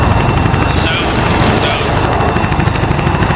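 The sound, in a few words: gunfire in the video game Arma 3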